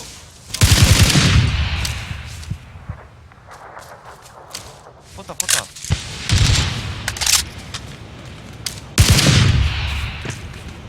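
PUBG gunfire crackles in three loud, rapid bursts with scattered single shots and echoing cracks between them, close and sharp.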